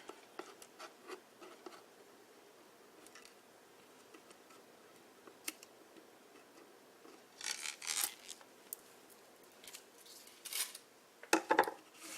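Scissors snipping in a quiet room while making a shadow box, soft scattered cuts early on, then louder clustered snips and crisp clicks near the end.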